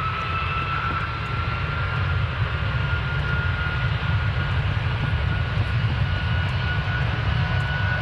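A plane engine in Minecraft drones at a constant pitch, a loud, unbroken roar with a thin steady whine on top, holding level throughout with no talking.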